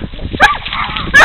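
Coon dogs bark during a hunt, with loud, close, rapid barks and yelps while a voice shouts alongside them.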